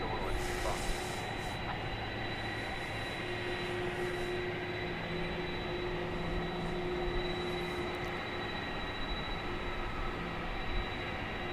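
An ABX Air Boeing 767 jet, operated on behalf of DHL, takes off at DFW Airport at night, its steady engine roar and high whine filling the air continuously and loudly throughout.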